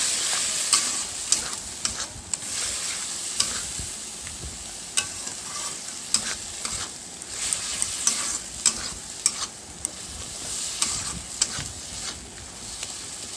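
Turmeric being stirred into chana paneer masala frying in a pan: a steady sizzle broken by repeated scraping strokes of the spoon against the pan, close and continuous, with no talking.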